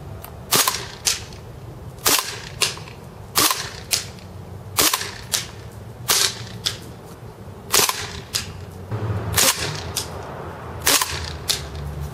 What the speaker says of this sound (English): the gun's getting a little bit colder, but let's just keep shooting